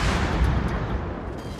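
Ship guns fire a salvo in a naval battle video game, a heavy rumbling boom that rolls and fills the whole short moment, loud and dense with no voices.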